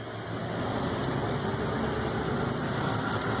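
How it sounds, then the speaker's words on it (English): A Porsche engine idling or running steadily at a car gathering, a continuous low rumble with broadband noise, moderately distant and even throughout with no talk over it. "Yeah, that's a Porsche."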